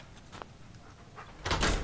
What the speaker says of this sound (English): Damn it, those damn doors.